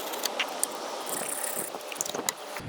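Ratchet wrench tightening a bolt on the starter of a 2007 Nissan Versa, rapid close clicking pawl strokes in short bursts over a few seconds.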